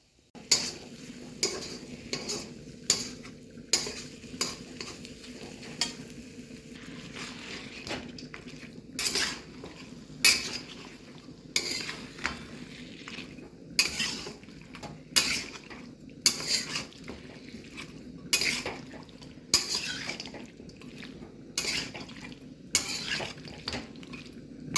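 A spoon stirs chicken with turmeric and mutton masala in a metal pot, making repeated sharp clinks and scrapes against the pot roughly every second over a faint, low sizzle.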